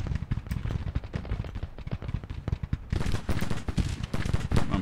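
Dense, rapid Civil War musket volleys and cannon fire from the Grand Tactician Civil War strategy game crackle continuously, loud and overlapping with no pauses, growing fuller and harsher in the second half.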